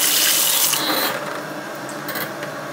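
Water runs from a tap into a sink, loud at first and then softer, with light rubbing and handling sounds over the flow.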